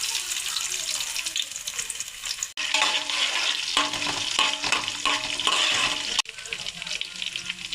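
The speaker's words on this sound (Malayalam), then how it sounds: "കടുക് പൊട്ടിക്കഴിഞ്ഞാൽ നമുക്കിനി വെളുത്തുള്ളി ഇഞ്ചി ഇട്ട് കൊടുക്കാം." Garlic and ginger frying in hot oil with popped mustard seeds, a dense steady sizzle broken by brief pauses and some stirring, close and loud with no talk.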